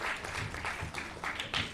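At a youth Urdu mushaira, the audience claps in a short burst of applause that sounds fairly faint and distant, a brief patter of hands lasting under two seconds.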